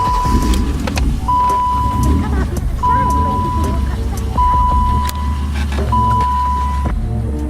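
A project car's engine starts and runs with a steady low rumble, close by, while an electronic chime beeps in repeated long tones.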